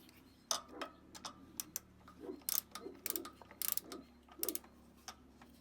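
Valve cover bolts tightened on a 2008 Kawasaki Teryx: irregular bursts of sharp ratchet clicks and small metallic taps, close but quiet, with brief pauses between strokes.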